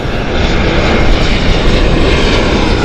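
A British Airways Euroflyer airliner at Gatwick Airport roars loud and close, a dense, steady jet-engine rush that fills the whole moment without pause.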